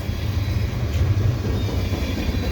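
A CP westbound freight train rolls past close by at Cedar Park station in fresh snow near Montreal, a steady loud low rumble of wheels and cars with faint clatter throughout.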